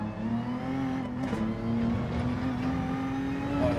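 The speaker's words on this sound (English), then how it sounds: "I might as well rev this out rather than short shifting here though" Racing car engine in Gran Turismo 7 revving high and held out through the gear, a steady loud whining drone with rising harmonics and no talk.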